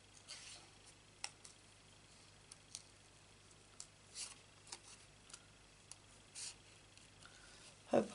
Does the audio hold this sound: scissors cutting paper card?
yes